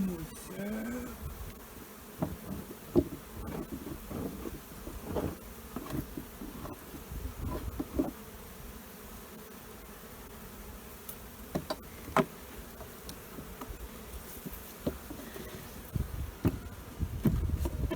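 Honey bees buzz around an open hive during a spring inspection, a soft, fluctuating drone with scattered close clicks and knocks from handling the hive.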